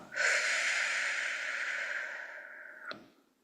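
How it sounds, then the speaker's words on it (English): Long, steady breath drawn in through the nose and released through the mouth during a guided relaxation exercise, a single sustained airy rush lasting nearly three seconds, close and alone, ending with a brief sharp catch. "take a deep breath in through the nose"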